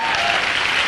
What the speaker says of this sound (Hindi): इस बिजनेस के लिए और कंपनी के लिए मैं ताली बजवाना चाहता हूं, सलूट मारना चाहता हूं।